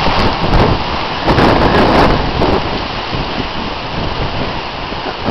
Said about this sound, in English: Man, look at this rain.